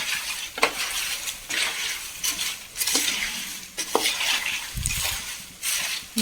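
Jackfruit chips frying in coconut oil, a bright hissing sizzle with scattered metal clinks and stirring knocks from a ladle against the pan, close and without speech.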